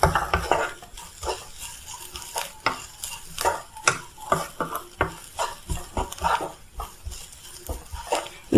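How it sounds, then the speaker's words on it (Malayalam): A spoon stirs garam masala and chili in a pan for channa masala, giving repeated scraping strokes with a light sizzle beneath, steady and close, no talking. "ഏകദേശം 1 മിനിറ്റ് വരെ നമുക്കിങ്ങനെ ഇളക്കിക്കൊണ്ടിരിക്കാം"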